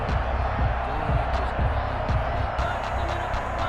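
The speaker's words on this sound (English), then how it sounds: "and the crowd getting into it" Crowd noise from the Madden NFL 21 football video game, with a steady roar of stadium cheering and scattered claps running continuously under the play.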